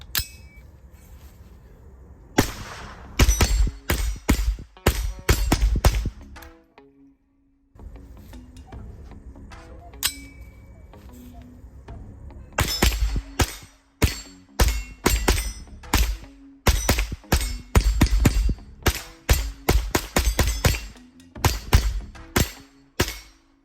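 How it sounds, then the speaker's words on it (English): A JP-15 .22 rifle fires CCI Mini-Mag rounds at an outdoor range: clusters of sharp, loud reports in quick succession, broken by short pauses and a longer gap, with no talk. "we're going to run another 10 rounds through it."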